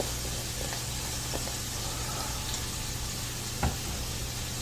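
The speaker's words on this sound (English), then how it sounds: "I'm just going to let the ground beef brown up" Ground beef with chopped garlic sizzles as it browns in a pan, a faint, steady frying hiss with a few small crackles and a soft stirring knock.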